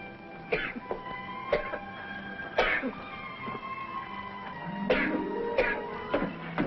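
A man's cough in an old Western film scene, several short harsh bursts spaced apart, fairly close, with quiet room tone and a low voice between them.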